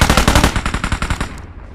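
Automatic gunfire in a battle royale video game fires as a loud, rapid burst of shots, then cuts off into a short fading tail, with no one talking.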